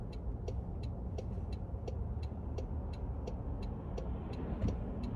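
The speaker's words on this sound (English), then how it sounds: "that car is coming fast. I cannot go." A car on the road during a driving test makes a steady broad engine and tyre rumble from inside the vehicle, alongside the regular tick of a turn signal and no clear sense of another car rushing past.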